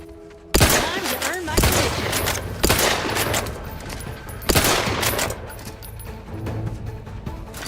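Bursts of gunfire from The Outer Worlds 2 video game, several loud sharp shots and volleys at irregular intervals with a rumbling tail, mixed with some voice or game audio.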